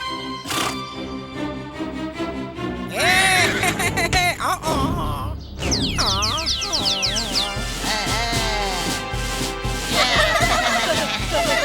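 A horse in the animated Chhota Bheem cartoon lets out loud, wavering neighs and whinnies, repeated several times, over busy background music and effects.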